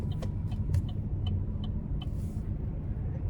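A 2025 Chevy Trailblazer 1.2T engine accelerates with a low, steady rumble heard from inside the car, faint clicks occasionally sounding over it and no talk.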